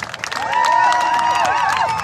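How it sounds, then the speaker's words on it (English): Spectators at a live jousting event clap and cheer in a sustained wash of crowd noise, with rising and falling whoops cutting through steady clapping. "A round of applause for the true athletes on the field, all of the horses."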